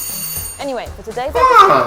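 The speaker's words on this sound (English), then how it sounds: "That's the doorbell?" A doorbell rings in a German home, a brief bright chime at the start that quickly gives way to a person talking over it.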